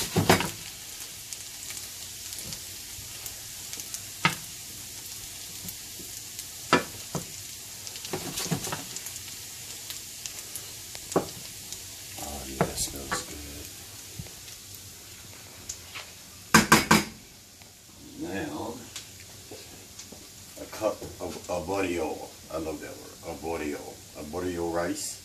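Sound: vegetables sweating and being stirred in a pan for risotto

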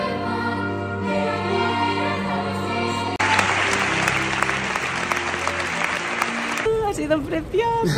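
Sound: audience applause at the end of a musical show

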